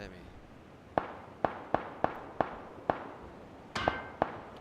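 Eight sharp metallic clangs from a frying pan striking a player in PUBG, ringing out at roughly half-second intervals, with the last two arriving close together, all over a low game background.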